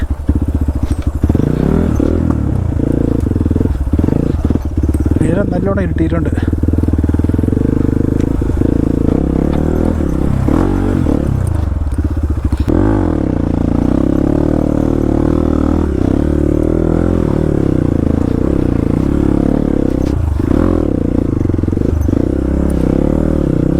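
A motorbike grinds off-road along a forest trail near Thiruvananthapuram at dusk. The engine drones loudly and continuously, rising and falling with clattering and scraping over rough ground, and a voice speaks briefly over it.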